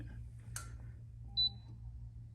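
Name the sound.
two-beep pairing feedback from Axent One C Plus toilet seat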